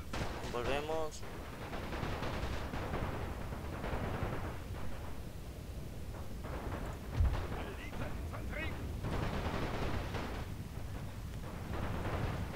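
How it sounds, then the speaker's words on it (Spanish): Soldiers in a World War I video game open fire, with steady crackling rifle and machine-gun bursts and distant booms running throughout, under someone talking in Spanish. "Ya empiezan a disparar mis hombres."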